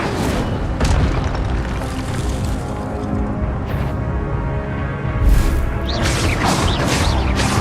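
Incendio fire spell cast in the Hogwarts Legacy video game, loud booming bursts and crackling blasts over dense game music and combat noise, with a fresh whooshing flare near the end.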